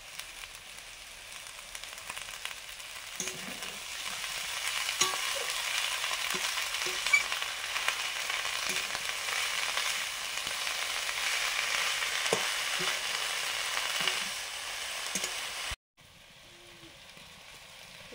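Mixed vegetables and chola greens with fried bhetki fish head fry in a pan, a steady loud hiss with occasional stirring knocks, cutting off abruptly near the end.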